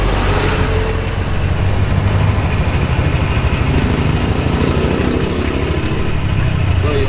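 A 2025 Honda Giorno Plus scooter idles close by with a steady, buzzing small-engine putter that holds an even level throughout, and nobody speaks.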